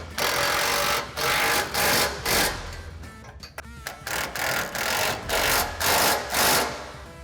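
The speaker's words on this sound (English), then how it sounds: "Fully tighten the nut." Nuts and bolts on a SuperATV rear bumper for a Polaris RZR XP/XP 1000 are tightened with a power tool that runs in about ten loud, even, buzzing bursts, with brief pauses between them.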